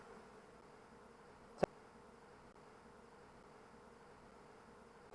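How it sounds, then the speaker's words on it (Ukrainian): Honey bees hum softly and continuously in front of beehives at an apiary, a faint even drone with one sharp brief knock partway through. "Я стою перед вуликів, тобто я мішаю бджолам."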